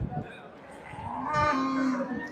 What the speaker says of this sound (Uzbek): shu qo'ylarni ko'rsatib ketaman